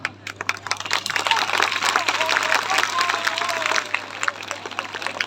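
An audience at a Yoga Day programme breaks into dense, steady clapping that swells after a few scattered claps and carries on strongly for several seconds before it thins out.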